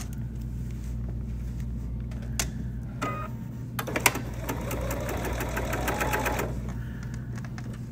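Sewing machine top stitching a seam on a fabric cosmetic bag, a steady mechanical whir with a busier, rapid stitching burst in the middle over a constant low hum.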